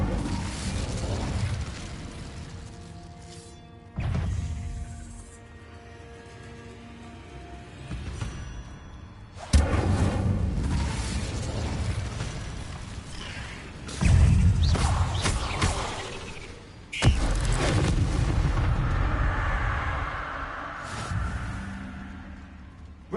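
The Incendio fire spell being cast in Hogwarts Legacy inside a cave, several separate sudden whooshing bursts of flame spaced a few seconds apart, each flaring loudly then fading into a low roar.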